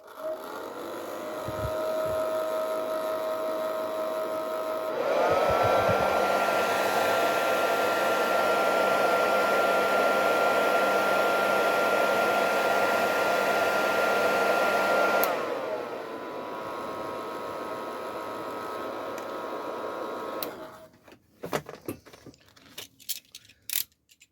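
A hair dryer blows on fabric glued with PVC adhesive, a steady close whine and rush that grows louder for about ten seconds, then drops to a lower setting before switching off, followed by light handling clicks.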